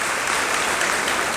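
An audience at a Jain religious discourse marking the Chaturmas kalash installation claps in a dense, steady burst of applause, close and continuous for a brief moment with no talking.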